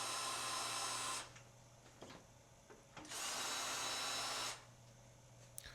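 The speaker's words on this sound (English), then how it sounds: "we're taking the screws out around the periphery of the panel" A power screwdriver or drill backs captive screws out around the edge of a panel on an Ampex VPR-3 videotape recorder, two sustained whirring bursts separated by quieter handling clicks, close and fairly loud.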